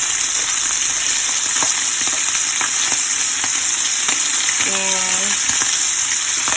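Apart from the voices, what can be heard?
kielbasa sausages frying in a pan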